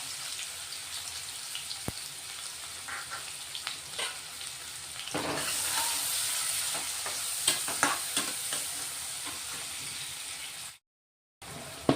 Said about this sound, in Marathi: तेल गरम झालेलं आहे अर्धा चमचा मोहरी अर्धा चमचा जिरे आणि दोन कांदे कापून घेतले बारीक ते टाकून घेऊ आपण आता